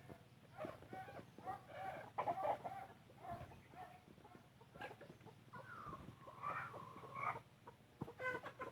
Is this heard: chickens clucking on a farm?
yes